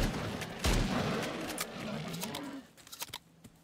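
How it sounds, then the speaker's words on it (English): Shotgun blasts from the video game Stalcraft X, one heavy close boom near the start followed by a rumbling stretch of game noise and a few sharper, quieter cracks toward the end. "Shotgun is king."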